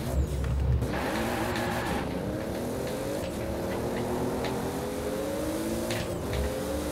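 Toyota car with a 2JZ engine accelerating flat out in a Forza Horizon 4 top speed battle, a loud, continuous engine roar climbing steadily in pitch through the gears.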